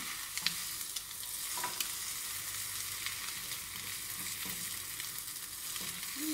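Bread slices fry in butter in a pan, giving a continuous close sizzle and crackle with occasional small scraping taps from stirring.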